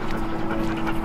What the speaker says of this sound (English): he's a Great Dane mix